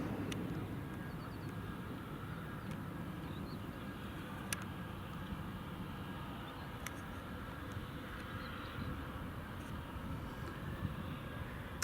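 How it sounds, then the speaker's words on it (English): An ATR 42 turboprop airliner departs, its faint, steady engine drone distant and even throughout, with a few sharp clicks over the background. "ATR 42 off to Sumbara."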